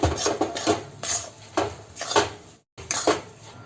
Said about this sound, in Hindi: गर्म कढ़ाई में इसे थोड़ी देर यूं ही चलाते रहें